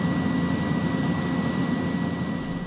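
Steady, even cabin roar inside a Bureau of Fisheries and Aquatic Resources airplane in flight over Panatag Shoal, a broad continuous engine and air noise with a faint thin tone, no voices.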